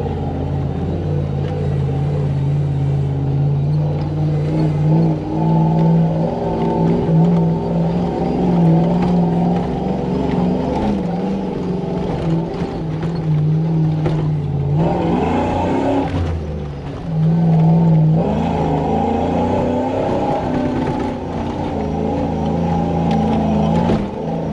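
A supercharged Toyota Hilux climbs uphill in four-wheel drive, its engine droning and revving steadily with a loud, continuous rumble, a brief surge partway through, and heard from inside the vehicle.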